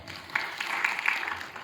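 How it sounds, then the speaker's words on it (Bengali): Audience clapping at a prize distribution for an all-India Bengali short drama competition, a brief burst of moderately loud, dense applause from a crowd. "একটা জোরে হাততালি হোক।"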